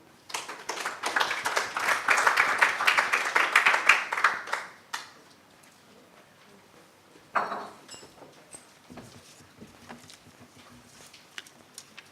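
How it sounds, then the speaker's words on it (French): An audience claps for several seconds, a moderate burst that fades out, followed by a short second flurry of clapping and then near quiet. "Merci d'applaudir."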